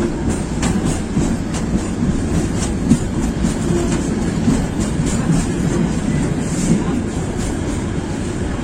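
Onboard the Sagarika commuter local train running from Chandpur to Chattogram, a loud, steady rumble carries rhythmic clickety-clack of the wheels over rail joints throughout.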